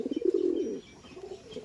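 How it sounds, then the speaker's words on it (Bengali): A Giribaz pigeon gives a brief, soft, close coo that fades out and trails into a fainter murmur. "সমস্ত ভিউয়ার্সরা এসে দেখবে যে পায়রা আছে, গিরিবাজ পায়রা"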